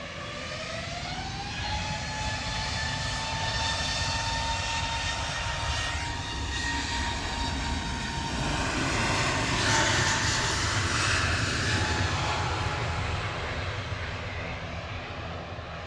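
Aircraft engines roar steadily at Manchester Airport, a broad jet rumble with rising and falling whine tones as a plane passes nearby, loud and continuous with no talk.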